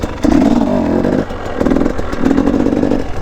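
A dirt bike engine in first gear revs hard in three close bursts during wheelie attempts, loud and near, with brief drops in between.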